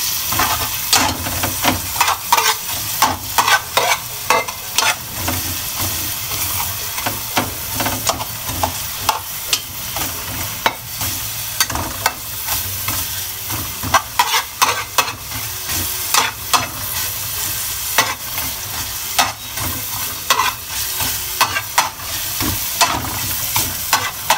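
Onions sizzle and fry steadily in a hot pan while a utensil stirs and scrapes them in frequent clattering strokes, close and fairly loud, as the first step of cooking squid adobo.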